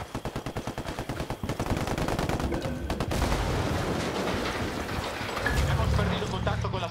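Automatic rifle fire in Ghost Recon Wildlands, a rapid string of loud bursts that blurs into continuous heavy shooting and rumble, with a voice speaking over it.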